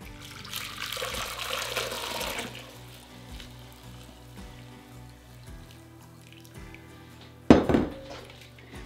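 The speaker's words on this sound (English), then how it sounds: "we're gonna pour off the bean water" Cooked bean water pours from a pot into a measuring cup while miso is started in a home kitchen: a bright splashing stream lasts a couple of seconds, then quieter dripping and a sharp clink of dishware near the end.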